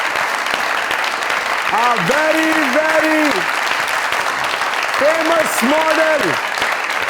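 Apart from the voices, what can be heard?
audience applause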